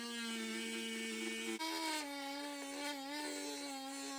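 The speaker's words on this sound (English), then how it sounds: "And now that those bits are dremeled out" A Dremel rotary tool whines steadily as it shaves down a plastic rib in the engine bay of a Ford Focus XR5, its pitch dipping once as the bit bites harder. It sounds close and loud, and no one speaks.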